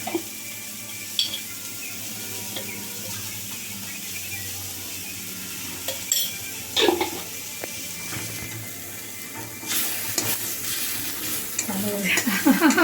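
Cumin and turmeric powder frying in oil in a pan while a girl stirs, a steady low sizzle with intermittent scraping stirs and short clinks, a little louder toward the end.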